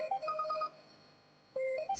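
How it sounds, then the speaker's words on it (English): A phone ringtone sounds for an incoming call, a bright repeating electronic melody of short tones that pauses briefly before starting again, clear and close with no talking. "So, sorry, I'm getting a phone call."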